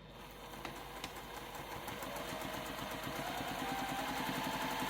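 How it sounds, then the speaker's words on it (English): Sewing machine stitching around the edge of a quilted mug rug, a rapid steady mechanical whirring and clicking of the needle running continuously, quiet and close. "I'm just going to stitch"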